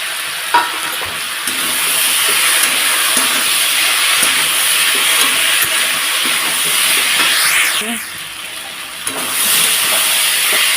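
Ginger and cumin paste fries with vegetables in a pan, making a steady, close sizzle and hiss with occasional stirring scrapes.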